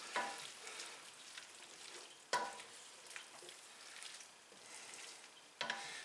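Two cloves' worth of minced garlic stirred into a pan, quiet crackling sizzle with scraping strokes, a couple of sharper utensil knocks, heard alone and fairly faint.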